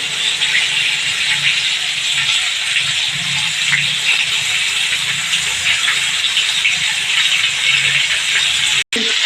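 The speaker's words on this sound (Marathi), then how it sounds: "पूर्णपणे ते फ्राय करून घेणार आहे" Stuffed tomatoes sizzle and fry in a pan, a steady loud hiss of oil running continuously throughout with small crackles, briefly cut by a gap near the end.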